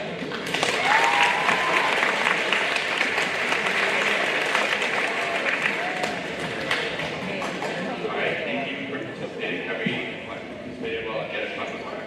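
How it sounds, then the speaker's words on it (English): School recognition assembly audience breaks into sustained applause, a dense crowd of clapping that holds strong for several seconds and then slowly tapers, with some voices underneath. "2 more rounds of applause."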